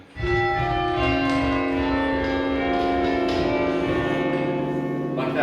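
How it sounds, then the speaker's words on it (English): Church bells at Bath Abbey, struck by hammers from an Ellacombe-style hand chime, ring loud and close in a sustained, overlapping wash of tones with long ringing decay. "when you pull on these, a hammer will strike the inside of the bell called a chime"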